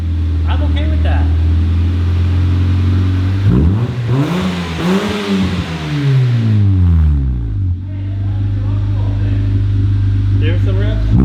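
Close, loud revving of a Honda Civic EG fitted with a Spoon exhaust: a steady idle swells into one long rising rev and falls back to idle, with voices heard over the engine.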